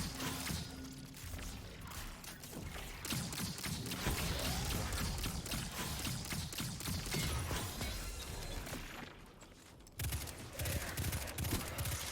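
Rapid bursts of gunfire in the video game Destiny, fired in a solo Grandmaster Nightfall run, crackling continuously and close at high density for most of the stretch, with a brief lull near the end before firing resumes.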